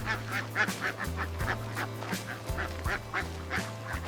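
A flock of egg-laying ducks in a freshly harvested rice field quacks in repeated bursts, many birds calling together close by over a steady low rumble, with no talking.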